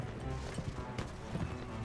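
A horse gallops in Mount & Blade: With Fire & Sword, its hoofbeats thudding in a quick, uneven rhythm amid quiet battle noise, fairly faint and close.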